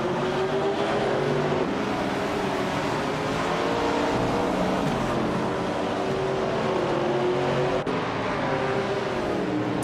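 A 1965 Shelby Daytona and other cars race in a racing video game, a continuous close engine drone with gently rising and falling revs and no pauses.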